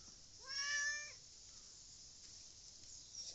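A single drawn-out cat meow, fairly close and clear, followed by near silence.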